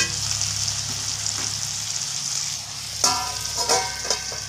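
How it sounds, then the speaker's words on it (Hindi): Vegetables frying in a pan for a home-cooked dal-chawal and sabzi meal, a steady close sizzle with a few louder crackling bursts and light stirring scrapes, no voices. "ये हमारा जो सब्जी है ना अच्छे से ब्राउन हो रहा है, देखिए अच्छे से फ्राई हो रहा है"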